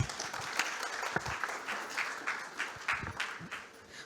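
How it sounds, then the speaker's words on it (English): Audience applause at a college-to-corporate HR summit, a steady round of many hands clapping that carries on throughout at moderate loudness, with no voices over it. "Let's give a huge round of applause to ma'am."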